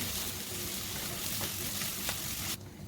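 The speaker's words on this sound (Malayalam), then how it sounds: "ഒരു രണ്ട് കറിവേപ്പില ഇതിനൊന്ന് നല്ലോണം വഴറ്റിയെടുക്ക്" Onion, ginger, garlic, green chillies and curry leaves fry in a pan for an egg kurma, giving a steady, close sizzle throughout with a few faint stirring clicks and no talk.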